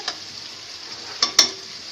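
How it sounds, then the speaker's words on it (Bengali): Onions fry in a pan for chicken biryani, giving an even sizzle punctuated by two sharp spatula knocks against the pan near the middle. "পেঁয়াজটা ভাজা হবে"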